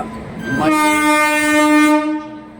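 A train pulling into Raipur station sounds a long, loud, steady horn blast that holds for over a second, then fades over the rumble of the moving train.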